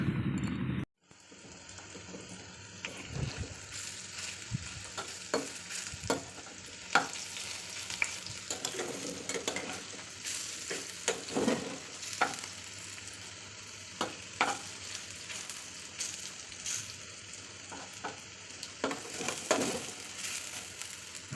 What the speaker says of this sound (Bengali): ততক্ষণে আমি পকোড়াগুলো ভেজে নেই